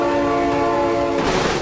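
A passing train sounds a loud, sustained multi-tone horn that cuts off partway, leaving the rumble and rattle of rail cars close by.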